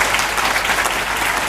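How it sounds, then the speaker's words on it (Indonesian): A school hall full of students and guests at SMP Negeri 1 Seririt claps loudly and continuously during a talk show, a dense, close, even roar of applause with no voices. "Tepuk tangan semuanya"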